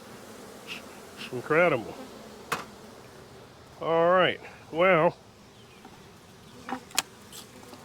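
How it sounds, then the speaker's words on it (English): Honey bees buzz at a hive holding around 50,000 bees, a steady low hum running throughout while a person speaks a few short words over it. "A lot of bees. Lots of bees."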